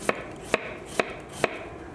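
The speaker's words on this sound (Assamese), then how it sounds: "বন্ধাকবিৰ কোমলীয়া অংশ যিখিনি মই পাতল পাতলকৈ কাটি লৈছোঁ" A knife thinly slices the tender part of a cabbage for a mixed vegetable salad. Four crisp, evenly spaced cuts land on a board about half a second apart, close and clear with no talking.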